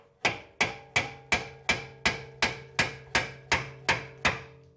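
A hammer taps a Honda Pilot front lower control arm into the steering knuckle, giving twelve evenly spaced sharp metallic strikes with short ringing decay, close and loud, with no talking.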